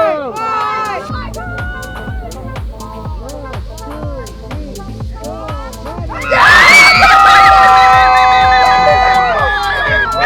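At a gender reveal, a crowd of adults and children first calls out in rhythmic bursts, then erupts into loud cheering, whooping and high-pitched screams that hold steady to the end.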